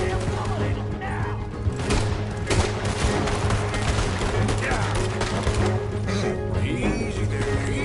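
Gunfire rattles through a Red Dead Redemption 2 shootout, sharp bursts and rapid volleys cracking over a rumbling background, with voices shouting beneath the shots.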